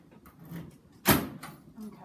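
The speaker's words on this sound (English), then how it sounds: "once you hear the clunk, it's open and unlocked" A hospital medication cart unlocks with a single sharp clunk, heard close and fairly loud, surrounded by quiet handling noises and soft background sounds.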